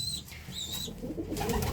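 Birds in a coop coo softly and repeatedly, with a few high whistled calls at the start. They sound close and no one speaks.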